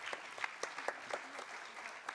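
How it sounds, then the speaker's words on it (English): Audience applause at an ophthalmology symposium award presentation, a steady patter of many hands with a few sharper claps standing out, moderately distant and sustained throughout. "So how about a round of applause, Dr. Maurya?"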